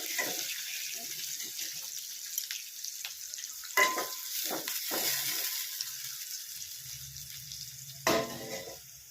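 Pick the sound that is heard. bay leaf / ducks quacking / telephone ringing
bay leaf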